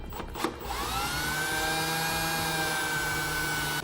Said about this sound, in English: make sure you're not going to penetrate anything when you're drilling through the bed